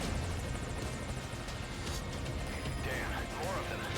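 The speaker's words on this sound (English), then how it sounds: "I know a second helicopter shows up." Helicopter arriving in the video game Metal Gear Solid V Ground Zeroes, a dense rotor and engine roar filling the scene at a loud, steady level, with chopping pulses and a faint rising whine later on.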